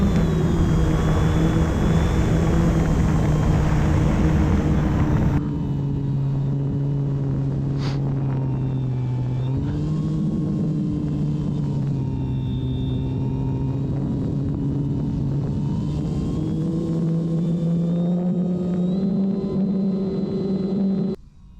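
A small RC airplane flies on 3S power with a little throttle held on, giving a steady droning motor whine with a rumbling engine tone that shifts slightly in pitch, loud and continuous throughout.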